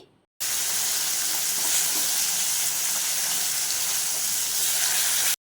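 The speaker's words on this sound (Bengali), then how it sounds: "মাছ ভাজার তেল আর কি গরম হয়ে গেছে তো এই মাছগুলো একটা একটা করে দিয়ে দিচ্ছি" Fish pieces fry in hot oil in a home kitchen, giving a loud, steady, hissing sizzle that starts abruptly and runs unbroken for about five seconds with no voices.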